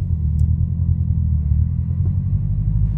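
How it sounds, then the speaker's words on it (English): Subaru WRX engine on an open canyon road, a steady low rumble from inside the car that builds slightly as it picks up speed, with no talking. "You can hear the car pick up a little bit."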